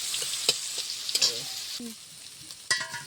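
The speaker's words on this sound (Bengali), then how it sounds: "মাখিয়ে নেওয়ার পর কড়াই দিব ভাজবো লাল লাল করে ভাজবো" Shrimp coated with turmeric and salt frying in a wok, a close crackling sizzle with bursts of spattering and a few scraping stirs of a utensil against the pan.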